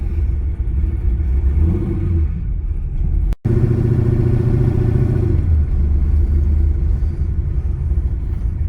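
A car with an LT1 V8 engine driving off and accelerating, a loud steady low rumble with rising revs near the start and a strong push in the middle, engine close and alone without talk.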